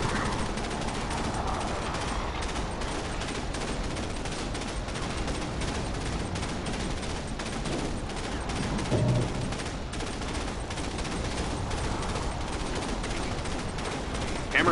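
Continuous rattling gunfire and explosions from the real-time strategy game Command & Conquer 3: Kane's Wrath, a dense, loud barrage that never lets up across the whole stretch.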